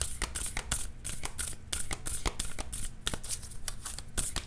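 A new tarot card deck being shuffled by hand, the stiff cards riffling and slapping in steady repeated bursts, close and fairly loud with no talking.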